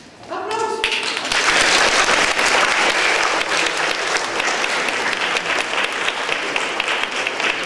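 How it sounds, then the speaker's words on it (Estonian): After a brief tone, a crowd bursts into loud, sustained applause that keeps going at a steady level to the end, at a school song contest in Estonia. "Aplaus!"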